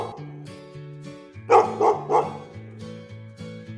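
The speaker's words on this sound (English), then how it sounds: "it's the happy dog" A happy farm dog gives three quick loud barks over a bouncy children's tune, close and clear.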